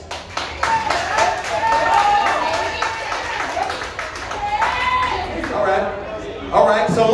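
A comedy club audience at The Union in Sacramento claps their hands during a stand-up set, a patchy spread of claps mixed in with a speaking voice through most of the stretch.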